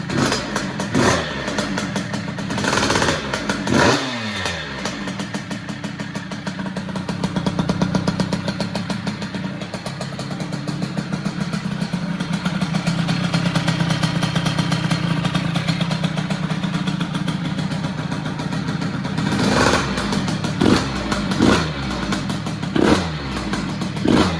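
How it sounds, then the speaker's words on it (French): A Yamaha DT 100 two-stroke motorcycle idles high after a cold start in below-freezing weather, a continuous close, rattly engine drone with brief blips of revving and no talk. "on se fait un petit démarrage à froid sous moins 2 degrés"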